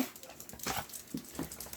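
Small dogs whine and whimper at a door, wanting to come inside; a few short, faint cries spaced out over steady background noise, with no talk.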